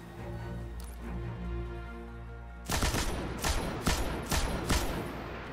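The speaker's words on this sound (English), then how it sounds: "let's have a look at this machine gun" Machine gun fire in Destiny 2: after a sustained tonal hum, a series of loud, rapid bursts of gunfire begin partway through, close and punchy, with no talk.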